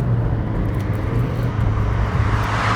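A 2019 DS3 Crossback with a 1.5-litre diesel engine, driven in sport mode, gives a steady low engine drone with road and wind noise inside the cabin, no talking.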